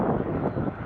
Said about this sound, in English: The airplanes flying for you now are former Soviet bloc aircraft